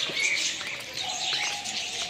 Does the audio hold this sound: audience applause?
no